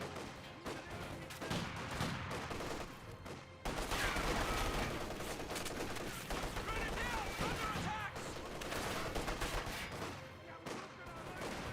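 Gunfire in the World War II strategy game Company of Heroes 2: dense, overlapping rifle and machine-gun bursts crackle almost continuously, with a heavier, louder stretch of firing in the middle.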